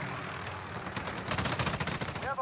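Rapid gunfire in the Call of Duty: Modern Warfare video game comes as a fairly faint burst of quick shots in the second half, over low background game noise.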